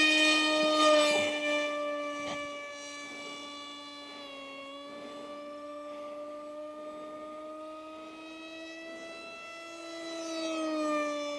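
An RC Powers Su27 V5 foam model jet, modified, launched at about 60% throttle and flown, its electric motor giving a steady high-pitched whine with strong harmonics that swells near the start and again at the end, with no talk.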